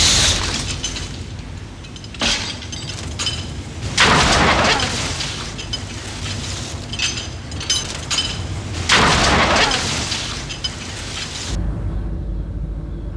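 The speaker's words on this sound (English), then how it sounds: "here's how the raft responds to an impact when fully loaded" A fully loaded life raft takes repeated impacts, with loud broadband booms and crashes near 2, 4, 7 and 9 seconds over a steady rumbling background, then the sound drops to a low hum.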